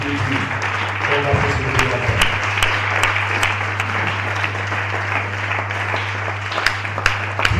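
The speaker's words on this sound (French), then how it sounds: "acclame d'abord Jésus, on va voir" A church congregation applauds in sustained, dense clapping that fills the room, with a steady low musical drone underneath and voices mixed in.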